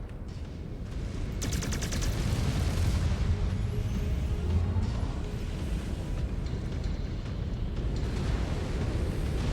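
Incoming missiles strike and explode during a mech combat video game, with a dense, continuous barrage of rumbling blasts and rapid gunfire that builds after a quieter opening and holds loud throughout.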